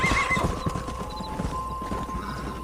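A horse in the Red Dead Redemption video game gives a high whinny at the start while its hooves clip-clop in an uneven rhythm, close and moderately loud, with no talk.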